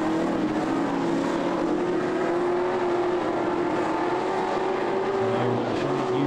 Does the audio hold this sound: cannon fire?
no